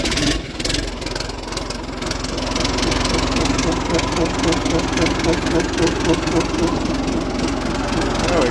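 Renault car engine idling steadily just after a cold start, a loud continuous mid-pitched running rumble close by, with a person speaking over it.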